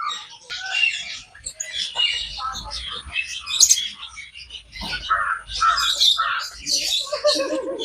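Zoo birds chirp and call in a busy stream of tweets and squawks throughout, fairly close and loud, with people talking faintly in the background.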